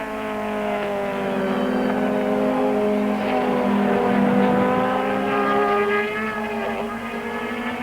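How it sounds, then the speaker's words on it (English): Modified touring cars racing at Killarney in 1994, engines roaring continuously at full throttle with rising and falling pitch as they accelerate and shift, loud and close throughout. "He floors it, but so do Moss and Aberdein."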